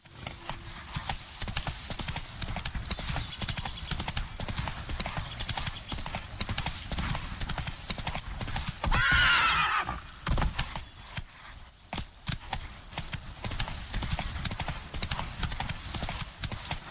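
Horse hooves clip-clop in a quick steady rhythm as Roach gallops in The Witcher 3, close and continuous, with a brief whinny partway through and game ambience behind.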